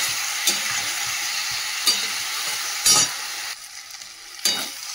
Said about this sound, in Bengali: দিয়ে ভালো করে মশলাটা সবজির সাথে কষাবো